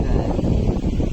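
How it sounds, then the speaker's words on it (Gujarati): Strong gusty wind ahead of a storm in a village rushes loudly and close against the microphone in a dense, continuous roar. "વાવાઝોડું બી આવી રહ્યું છે ખતરનાક"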